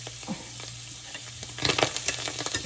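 Oil crackles and sizzles in a pan while ribs fry for a cream-sauce dish. A steady hiss and soft pops, close and moderately quiet, turn louder and busier with sharp crackles in the second half.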